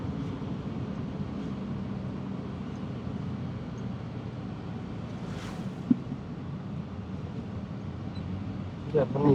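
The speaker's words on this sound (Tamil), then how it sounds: "தண்ணி ஓடுது" Water running steadily through a forest pond area, a continuous broadband rush with no breaks, joined by a brief sharp knock near the end.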